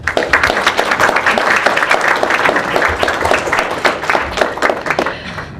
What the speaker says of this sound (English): a warm hand of applause for you.